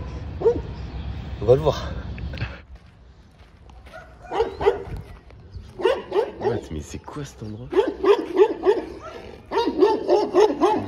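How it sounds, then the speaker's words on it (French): A dog barking near tents at a campsite, repeated sharp barks in bursts that grow more frequent toward the end, mixed with people talking nearby. "Je crois en fait il aime pas nos tentes. Genre, il aboie depuis hier soir."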